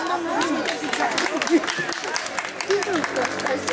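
Applause and scattered clapping from a crowd at a kindergarten graduation for Tbilisi kindergarten No. 98, mixed with babble while an adult speaks over it.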